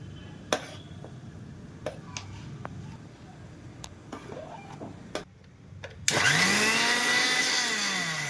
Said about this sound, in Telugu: ఇవన్నీ మిక్సీ పట్టేసుకోవాలన్నమాట